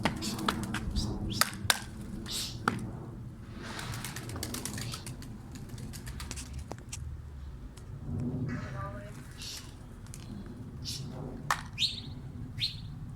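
Small birds chirp in scattered, sharp bursts around a rooftop where Çorum naked-neck pigeons are kept, mixed with clicking and shuffling noises and steady low background rumble, moderately close.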